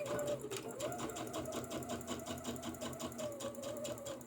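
A sewing machine runs steadily, stitching along the top edge of dress fabric with a fast, even mechanical chatter, close-up but quiet and continuous for the whole stretch.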